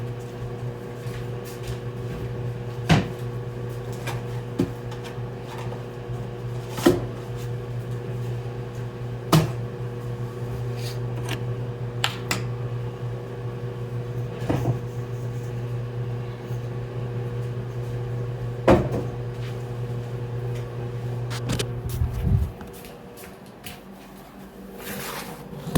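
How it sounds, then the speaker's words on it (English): A kitchen microwave oven softening butter hums steadily for about twenty seconds with a few light clicks and knocks along the way, then cuts off abruptly and leaves near silence before a final click. "we're gonna put this in the microwave for like 54 seconds. We just need to get the butter soft"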